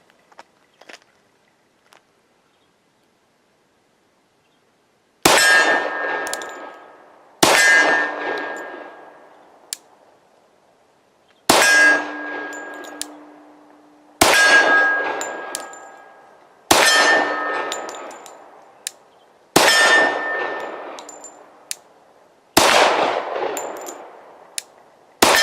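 A Glock 40 MOS pistol fires MagTech full metal jacket rounds in sharp, loud single shots. Eight reports come at a slow, fairly even pace, each with a ringing metallic tail that dies away, after a few faint clicks in near silence.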